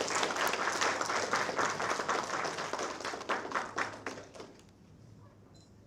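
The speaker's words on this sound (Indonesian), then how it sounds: "Jadi minta tepuk tangan buat Bang Dini." A stage audience applauding at a music show, sustained crowd clapping that is steady and full for several seconds, then thins and fades out toward the end.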